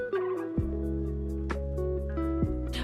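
A pet bird calls repeatedly, loud and close, with sharp gobbling bursts at a steady pace over a sustained droning background.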